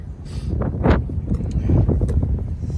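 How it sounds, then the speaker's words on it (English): Wind buffets the microphone with low, rumbling gusts, steady and close, outdoors during rear brake work on a 2002 Ford E-450, along with faint rustling and a few small knocks. "it's very windy today."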